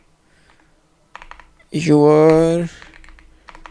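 Light, quick clicks of someone typing C# code on a computer keyboard, spread across the clip. A person says a word in the middle, briefly covering the keys.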